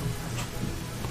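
Acid rain falling in Final Fantasy VI Pixel Remaster, a dense, steady hiss of rainfall that fills the whole short moment without pause.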